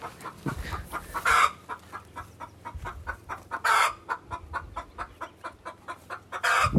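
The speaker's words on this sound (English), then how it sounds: "Sounds like we got a chicken who's laying an egg, or sounds like one of their first eggs." A hen clucking while laying an egg, with rapid repeated clucks and loud drawn-out squawks breaking in at intervals, close by and with no voices.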